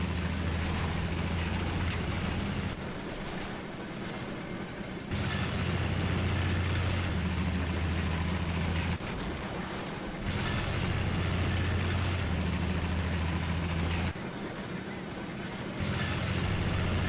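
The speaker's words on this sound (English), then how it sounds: "I hear more cars back here. What's going on? Oh, that's the Hummel." A Hummel self-propelled artillery vehicle in a video game rumbles and turns around, its low engine drone steady and moderately loud, dropping away in short gaps and returning.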